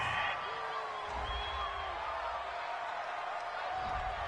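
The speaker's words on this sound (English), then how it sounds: "This home crowd, they're happy with that call." A video game's home stadium crowd roars in approval after a penalty flag on third down in an American football game, a loud, continuous cheering wash with whoops and scattered claps.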